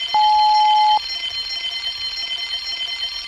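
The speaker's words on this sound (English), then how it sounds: "Soon came the alarm." Alarm sound effect from a Thomas & Friends audiobook story: one steady high electronic tone sounds for about a second, then stops, leaving a faint background hiss.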